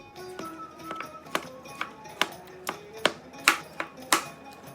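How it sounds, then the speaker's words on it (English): Seven ripe peeled tomatoes being chopped with a knife on a cutting board, heard as a series of about a dozen crisp, close knocks at an uneven, unhurried rhythm. "My 7 ripe tomatoes are ready to be chopped."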